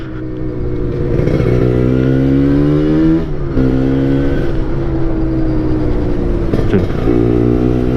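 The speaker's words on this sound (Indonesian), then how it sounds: "Di atas RPM 7000 ya 8000 lah anggap, itu super kip udah terbuka semua" A Yamaha RX-Z motorcycle fitted with a Kawasaki Ninja RR Super KIPS two-stroke engine revving hard and close, the pitch climbing high in repeated pulls with brief drops between throttle blips.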